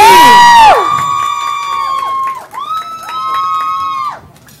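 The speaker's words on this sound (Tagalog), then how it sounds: "isang malakas sa palakpakan na may hiyawan for Negi!" A live show crowd greets a comedian's entrance with loud cheering, whoops and shouts, starting with a burst and then holding at a lively level with rising and falling cries.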